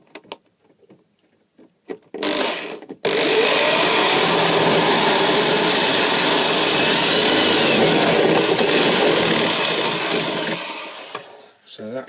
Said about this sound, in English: I'm going to drill an hole through the side.